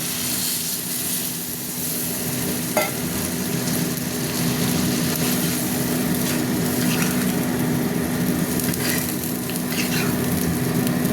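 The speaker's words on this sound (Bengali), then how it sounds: "এবার আমি একটু জল দেবো, জল" A steady, loud, dense hiss and bubbling from a pan of fish curry with potato and tomato after water is added, continuous and close throughout, with a faint hum underneath and a few light clinks.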